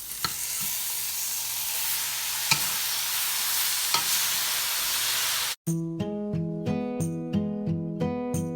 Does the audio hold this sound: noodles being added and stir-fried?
yes